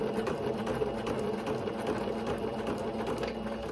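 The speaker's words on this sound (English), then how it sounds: "I'm going to go ahead and backstitch and seal it." A sewing machine runs steadily while backstitching to seal the seam of a ruffled tutu sock, a continuous close mechanical whir with a fast stitching pulse and no pauses.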